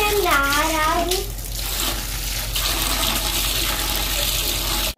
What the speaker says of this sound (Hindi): मैं नहा रहा हूँ।